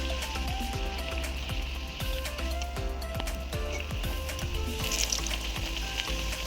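Luchi deep-frying one by one in hot white oil, giving a steady close bubbling sizzle with small crackles and pops throughout.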